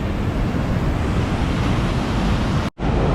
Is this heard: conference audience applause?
no